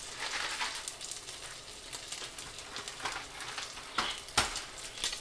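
Noodles simmering in a pan give a steady sizzling, bubbling crackle close by, with a few sharper pops and clicks toward the end and no one speaking.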